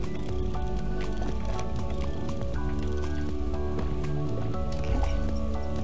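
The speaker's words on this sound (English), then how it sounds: "Oh, they're water balloons." Water balloons splashing in Donut County, soft wet squishes and drips scattered over steady game music throughout.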